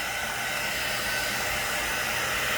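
Steady hiss of a heat tool blowing close by while drying the back of a watercolor paper gift tag, a continuous loud rushing airflow with no talk.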